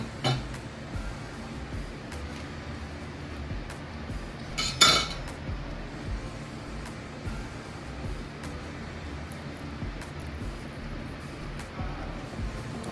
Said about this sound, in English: I'm gonna cut it this way